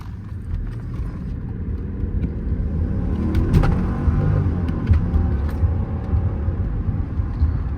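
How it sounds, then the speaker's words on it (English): A 2005 Mercedes S500 4-Matic with a 5-liter V8 pulls hard on a back road, its engine a steady, loud low rumble that swells and holds through the whole stretch of acceleration. "All you got to do is press that pedal and that 5-liter V8 really speaks."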